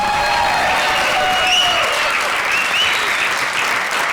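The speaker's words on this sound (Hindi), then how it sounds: "तालियों से स्वागत कीजिए" A studio audience at a TV comedy show claps steadily throughout, a dense wash of applause with a few faint cheers rising over it.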